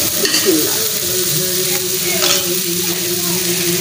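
Eggs drop into a hot frying pan with a steady, loud sizzle and crackle, along with some stirring and light scraping throughout.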